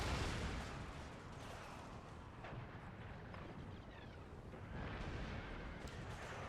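Artillery fire in an Empire Total War battle against a cannon crew: a continuous dense rumble of distant cannon blasts and battlefield noise, steady throughout with no speech.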